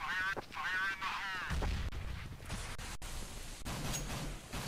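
M4 rifle gunfire in a Counter-Strike showmatch, a few sharp shots and bursts at moderate level, partly under a caster's voice.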